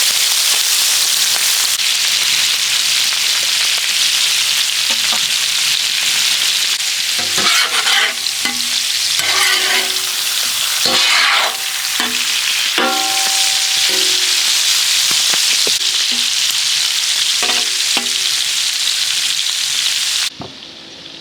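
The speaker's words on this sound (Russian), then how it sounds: "Пока сердечко жарится, мы нарежем лук." Pieces of heart and liver sizzle loudly and steadily in a hot pan, with a constant hiss and occasional crackles and stirring clatter throughout.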